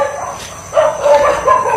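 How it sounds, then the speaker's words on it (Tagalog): Several dogs barking in a rural spot, a few sharp barks in quick succession at moderate distance, loud against a quiet background. "Dami pa man ding aso sa lugar na to."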